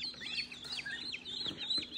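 Ducks and geese, all female, making a busy stream of high chirps and clucking calls close by, with no talk over them.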